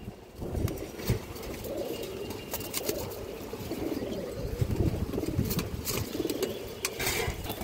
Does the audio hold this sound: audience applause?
no